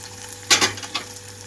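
Onions fry on a medium flame in a pan, a low steady sizzle broken by a few quick stirring scrapes close by, with no voices.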